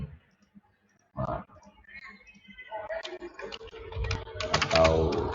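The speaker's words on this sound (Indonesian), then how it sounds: "Kita ketik aja nama kita," Keys tapped on a computer keyboard while a name is typed into a form, a quick run of light clicks that grows busier toward the end.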